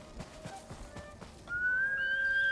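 A horse in the video game Ghost of Tsushima, with a few rhythmic hoof clip-clops followed by a long rising whistle-like whinny tone. It is moderately loud, with no talking.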